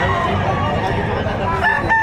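A rooster crows among the poultry at the Padre Garcia livestock auction market in Batangas, with a loud, close, sustained call over a busy crowd and people talking nearby.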